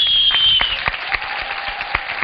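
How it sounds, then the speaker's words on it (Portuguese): A studio audience on a Brazilian TV show claps steadily in a broad wash of applause, with a few louder individual claps standing out and a faint tone fading near the start. "Os aplausos da nossa plateia para ele."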